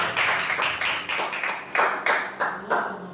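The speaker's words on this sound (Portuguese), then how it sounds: "Aplauda bem forte, Senhor Jesus." Rhythmic hand clapping in a church service, steady and brisk, about ten claps in a few seconds, close and fairly loud with no talk.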